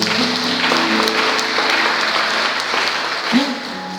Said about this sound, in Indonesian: Boleh beri tepuk tangan dulu buat Tuhan Yesus